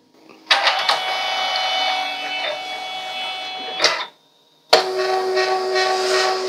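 A sticker cutting machine runs with a steady, close mechanical whir and hiss, stops for a brief silent pause near the four-second mark, then starts up again just as loud.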